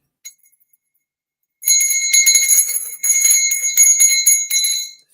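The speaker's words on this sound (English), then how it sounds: "Bell doesn't ring quite as much as the other one, but okay." A small bell rings repeatedly, bright shimmering tones struck in a steady series after a brief tap, loud and close with a sustained metallic resonance.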